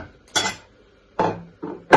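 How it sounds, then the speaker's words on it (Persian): A spoon scrapes and knocks inside a cooking pot of Persian herb and yogurt soup (ash doogh) over low heat, in four short, separate strokes with quiet pauses between them. "این رو اضافه میکنم به قابلمه و هم میزنم برای اینکه نبره"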